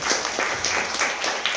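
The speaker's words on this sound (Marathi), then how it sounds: "टाळ्या वाजवा रे तिला." Scattered hand claps ring out in a few quick, uneven bursts, applauding a second-grade schoolgirl who recites multiplication tables.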